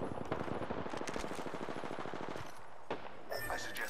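Gunfire from the Apex Legends video game comes as a dense, rapid automatic burst that stops after a couple of seconds, followed by scattered effects and a voice speaking.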